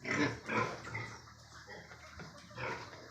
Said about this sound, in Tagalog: Ito po yung mga inahin natin.